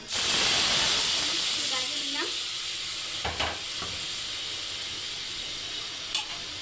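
Chopped onions fry in oil in a pan for a malai curry roll, a steady sizzle and hiss with a few stirring scrapes, loud at first and slowly easing.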